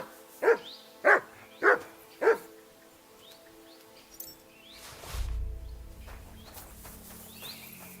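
A dog in the video game Kingdom Come: Deliverance II barks four times in a quick, evenly spaced series, loud and close, followed by quieter game ambience with a low thump.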